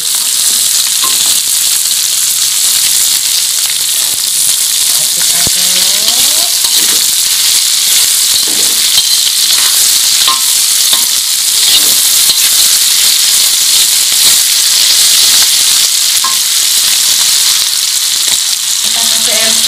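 Red chilies, bird's eye chilies and sliced palm sugar fry in a pan with a steady, loud, continuous sizzle and hiss throughout, faint clinks of stirring breaking through now and then.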